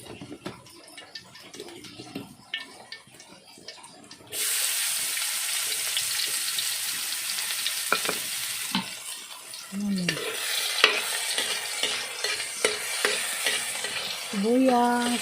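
Onion and garlic hit hot oil for a vegetable empanada filling, bursting into a loud, steady sizzle after a quiet start, with occasional stirring clinks and scrapes over the frying.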